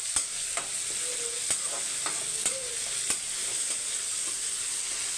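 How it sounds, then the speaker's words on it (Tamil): Onions and curry leaves sautéing in hot oil, a steady bright sizzle with sharp spatula taps and scrapes at irregular intervals, close and unbroken by speech. "வெங்காயம் பாருங்கள் நல்லா பாதி வதங்கிடுச்சு"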